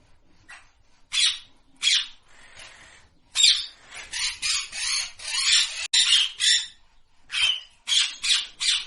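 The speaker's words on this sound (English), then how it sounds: "parrot" A parrot squawks repeatedly in harsh, loud bursts, some single and some in rapid clusters, over several seconds with no other sounds.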